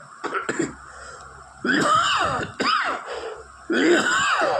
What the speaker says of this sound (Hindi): ये खांसी जबरदस्ती की है